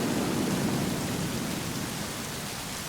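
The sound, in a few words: rain and thunder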